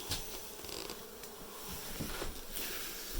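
Honey bees swarm and buzz during a hive cutout in Dorrance, Kansas, a dense, steady drone close by that fills the whole clip with no talk over it.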